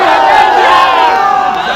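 A large political rally crowd in Bihar roars and shouts back in unison, a loud, sustained mass of raised voices with no break.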